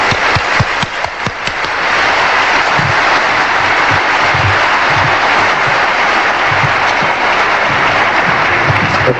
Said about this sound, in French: nous allons applaudir notre grand invité